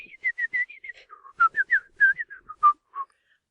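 A man whistles a short, lilting tune: a quick run of clear, bright notes close up, rising and falling in pitch, heard alone with no other sound around it.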